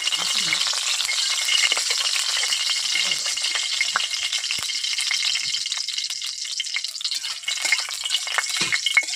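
Two dried red chillies fry in hot oil, giving a bright, continuous crackling sizzle close up, with scattered pops and spatters and no one speaking.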